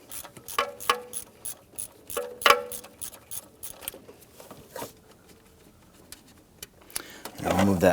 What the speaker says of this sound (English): I'm going to use my deep socket and ratchet.